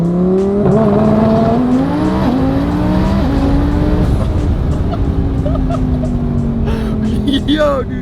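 A twin-turbo Lamborghini Huracan Evo accelerates hard from inside the cabin, the engine note climbing through repeated gear pulls, loud and continuous with a few clicks and shifts near the end.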